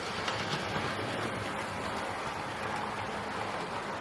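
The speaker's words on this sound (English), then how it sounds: "my locomotive as it's coming towards me is running slightly uphill" A Hornby Caerphilly Castle model locomotive runs on a layout, heading slightly uphill toward the listener, producing a steady, close whirring rumble with faint rail clatter that stays constant throughout.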